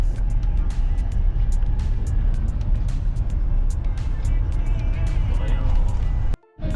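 Dense road traffic in Marilao, Bulacan, heard from inside a vehicle: continuous engine rumble and passing cars, steady and loud, with people talking throughout, ending in a brief abrupt dropout.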